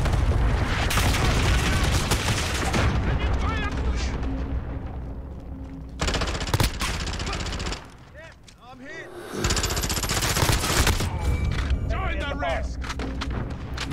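Loud, dense bursts of gunfire and explosions fill a Call of Duty: Modern Warfare match, briefly dropping to a lull before the shooting resumes, with voices over it.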